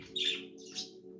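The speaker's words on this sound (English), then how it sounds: "Oh, the birds is flying." Pet birds loose from their cage give two short squawking calls, one near the start and another just under a second later, over a low steady hum in an indoor room.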